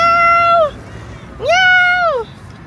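A pet cat meows twice, each call drawn out and rising then falling, close and clear over a faint background hum.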